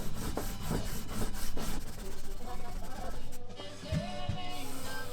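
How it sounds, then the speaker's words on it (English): A spokeshave blade is stropped on leather charged with green polishing compound, making close, rhythmic rubbing strokes that sweep back and forth, with a short pause midway. "Finally, I used my strop."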